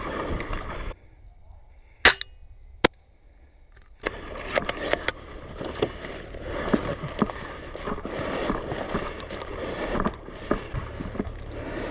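Airsoft gunfire during a skirmish in Lviv, with sharp single cracks near the start and then a steady stretch of rapid bursts and pops over outdoor noise.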